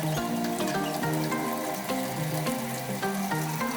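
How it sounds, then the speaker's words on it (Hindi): Chicken pakoras frying in hot oil, about three minutes into cooking one side; a dense, continuous sizzle with crackling bubbles holds steady and close throughout. "3 मिनट हो गए हैं एक साइड से फ्राई होते हुए और अब हम इसकी साइड चेंज करेंगे।"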